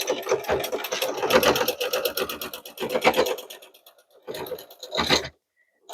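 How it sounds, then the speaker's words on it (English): A sewing machine runs a basting stitch through layer cake fabric squares in rapid mechanical bursts of stitching, then pauses before two shorter runs. "move this to a basting stitch and do one, baste one up and see how you like it"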